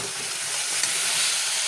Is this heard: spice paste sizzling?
yes